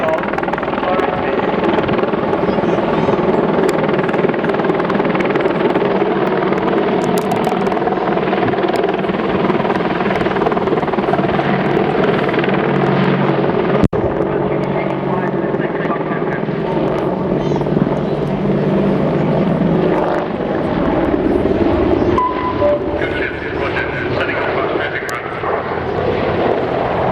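Military gunship helicopter in a high hover at the RIAT airshow, its loud, steady rotor and turbine roar filling the air without letup, with faint commentary underneath.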